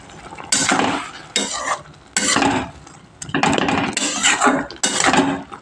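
Spinach for a sour, vegetarian palong shak dish is stirred in a pan, with a spoon or spatula scraping in several loud bursts separated by short pauses, close and without any talk.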